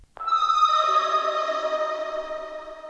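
Washed-out synth chop texture slowed to half time, drenched in reverb and delays with lows and highs cut by EQ; a sustained harmonic tone blooms in and rings evenly, fading slightly over a few seconds, alone without talk.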